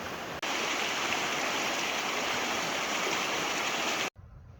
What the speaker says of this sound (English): This is the Nevis River.